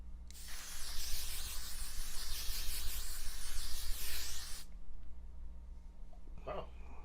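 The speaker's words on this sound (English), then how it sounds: "I'm spraying my face down." A few seconds of sharp, airy spray hiss from a face mist bottle sprayed on a face, steady and close, followed by a brief low voice near the end.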